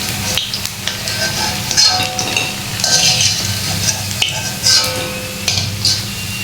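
Rice pakoras sizzling in hot frying oil as they are lifted out, a steady crackling fry with intermittent metallic clinks and scrapes of a utensil against the pan, close and continuous with no talk.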